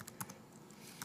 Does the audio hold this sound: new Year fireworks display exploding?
no